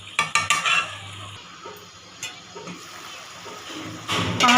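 Softened tomatoes and onions are stirred and sautéed in a pan for chicken karahi, with sharp utensil scrapes and clinks at the start and end over a steady, close sizzle.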